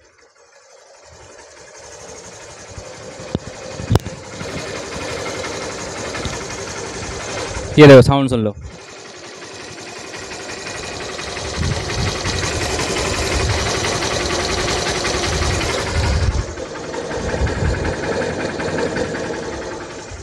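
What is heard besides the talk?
motorcycle engine idling smoothly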